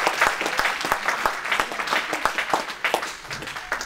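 Congregation applauding in a church service, a dense crowd of hand claps with rhythmic peaks, loud and sustained throughout.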